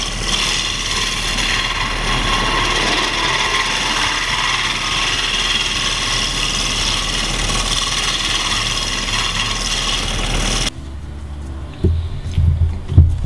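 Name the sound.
wood lathe turning maple scoop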